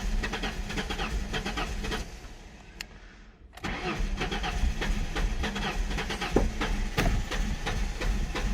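A car engine cranks and starts, then runs rough and shaking with a steady low rumble; the car is suspected of a blown head gasket. The engine drops out briefly mid-clip, then returns with a loud idle and a few sharp knocks.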